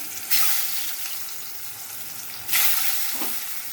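Eggs dropped into a hot pan with turmeric and salt, two loud bursts of bright hissing sizzle that settle into a steady frying crackle, close and without talk.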